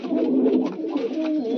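Pigeons kept for breeding coo steadily and close by, a continuous low murmur of overlapping calls with no talk.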